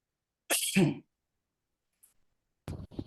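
A single sharp sneeze bursts out close by, followed by silence and then a short stretch of nearby talking.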